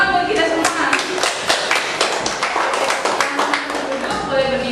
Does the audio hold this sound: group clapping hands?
yes